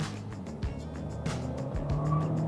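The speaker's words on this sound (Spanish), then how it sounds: "voy a darle una pequeña acelerada en 3, 2, 1" A Chery T8 Pro e+ with a 1.5 turbo engine accelerates on a test drive near a racetrack, its engine note climbing steadily over road and tire noise heard from inside the cabin.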